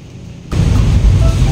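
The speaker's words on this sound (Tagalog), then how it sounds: "sobrang lakas ng ulan ngayon" A heavy, stormy rain driven by wind and flooding a home terrace suddenly swells into a loud, dense roar that continues steadily with no talking.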